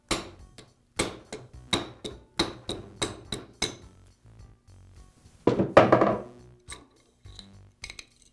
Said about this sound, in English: use a rubber mallet to remove the armature from the bearing